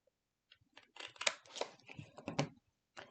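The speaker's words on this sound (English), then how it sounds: "put my scissors under both, and I'm going to cut from corner to corner" Scissors snip through scrapbook paper in a quick series of close, crisp cuts, several sharp clicks and rasps in a row with quiet pauses between.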